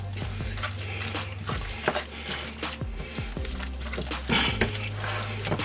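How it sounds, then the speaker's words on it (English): Spinach artichoke dip filling is mixed in a bowl, with wet squelching, soft scraping and uneven knocks of a utensil against the bowl, close and moderately loud. "And we're going to start to mix this."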